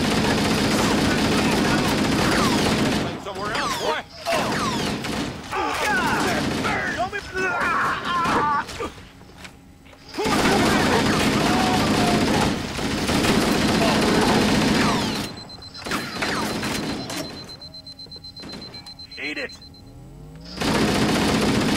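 Sustained automatic gunfire in Halo Anniversary co-op on Legendary, dense rapid bursts with brief lulls over a steady mechanical drone, loud and close, with players talking throughout.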